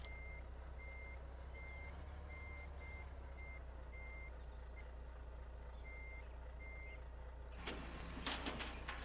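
A steady series of truck reversing beeps in Farming Simulator 2013 repeats at an even pace over a constant engine rumble, with a brief burst of clattering near the end.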